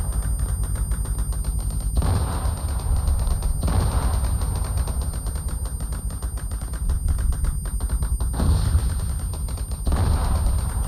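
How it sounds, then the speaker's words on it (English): Ammunition cooking off or gunfire in Arma 3 Antistasi: continuous rapid rattling bursts, dense and machine-gun-like, with heavier low thumps recurring every couple of seconds, steady and loud throughout. "Is that just the cook-off that I can hear?"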